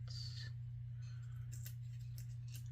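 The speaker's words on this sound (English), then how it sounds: "I'm going to trim around it." Scissors trim around a paper planner sticker with a few light, quiet snips. A steady low electrical hum runs underneath.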